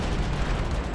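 Gunfire from an Al Qaeda ambush on a snowy mountaintop during the Battle of Roberts Ridge, heard as a dense, continuous rumble of loud, booming shots and reports with no talk.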